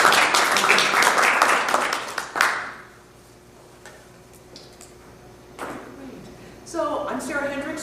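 Applause from a symposium audience breaks out densely for a couple of seconds, then fades to a quiet room, with a few scattered claps and people speaking briefly near the end.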